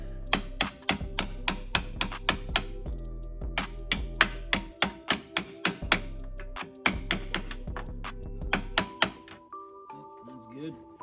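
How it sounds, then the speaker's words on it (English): Rapid metallic hammer strikes on a 30mm socket press-fitting a seal in an EZGO RXV golf cart rear differential ring out in quick bursts, sharp clanging hits with short pauses between groups, ending in a quieter tonal hum. "I got this 30mm socket. I'm just gonna give it a little bit of hammering."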